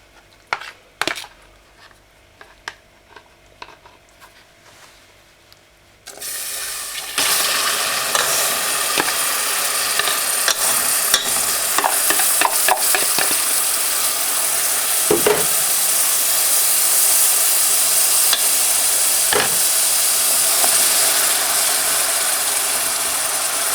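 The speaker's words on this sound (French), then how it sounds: "On va déglacer à la crème fraîche." Crème fraîche hits a smoking hot pan while making a walnut cake: a few scattered clicks and taps give way to a sudden loud, sustained sizzle with stirring scrapes that holds steady to the end.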